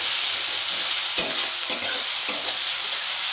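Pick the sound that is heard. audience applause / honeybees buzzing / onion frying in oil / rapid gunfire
onion frying in oil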